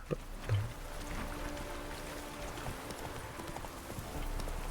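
Geralt's horse Roach gallops in The Witcher 3, a steady clip-clop of hooves running continuously under low game ambience, loud and close throughout.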